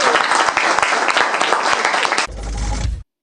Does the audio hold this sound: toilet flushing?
no